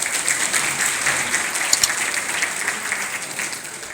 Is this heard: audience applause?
yes